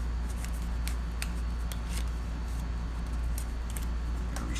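A stack of playing cards is shuffled by hand in a quick run of crisp riffling flutters over a constant low background hum.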